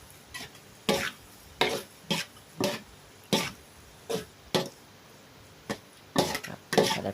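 Repeated sharp scraping strikes of a utensil against a pan while stir-frying glass noodles with egg, in irregular bursts with brief pauses, close and fairly loud, with no talking.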